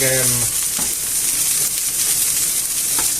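Chicken legs brown in a little oil in a pan, giving a steady, close, broadband sizzle throughout, with a brief voice at the very start and a few faint clinks.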